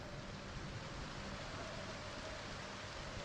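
Steady rainfall in the video game Project Zomboid, a continuous even hiss of rain held at a constant level with no talking.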